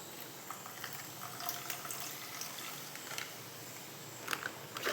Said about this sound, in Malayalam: അപ്പം ഞാനിത് ഇതിൻ്റെ അകത്തേക്ക് പാലൊഴിക്കുന്നുണ്ട്.